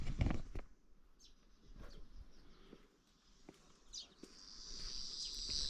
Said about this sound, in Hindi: चारों तरफ झिंगुरों की और चिड़िया की आवाज़ आ रही है।